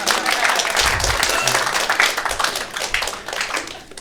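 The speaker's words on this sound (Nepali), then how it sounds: "एकचोटि दिवस भाइको लागि मैले तालीको अपेक्षा राखेँ।" Audience applause at a stand-up comedy show, a sustained wash of clapping from a crowd running through the whole stretch, with a voice talking over it.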